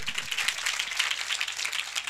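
A church congregation claps together in a steady, rapid patter of many hands, fairly distant and even in level throughout.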